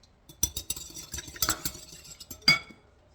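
Egg and other ingredients being mixed in a bowl for chocolate brownie batter, heard as scattered clinks and scraping taps of a utensil against the bowl, with a sharper clatter near the end and no talking.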